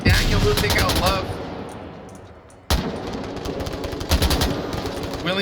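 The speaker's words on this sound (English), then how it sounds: "those shots are gonna give Mobstar's position" Rapid gunfire in the VR shooter game Onward during a competitive match, dense automatic bursts from near and mid distance, a brief lull, then more loud volleys.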